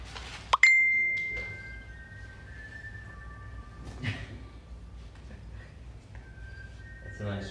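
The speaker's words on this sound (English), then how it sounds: "That's a nice ringtone." A phone ringtone based on Hunger Games music sounds in a room: a sharp ding followed by a sustained bright tone and a second tone near the end, with quiet voices in the background.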